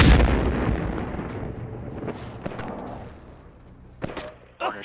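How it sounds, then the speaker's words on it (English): A grenade going off in the video game Project Normandy, heard as a loud, close booming blast whose rumble slowly decays, followed by a couple of sharp thumps near the end. "Grenade! Run!"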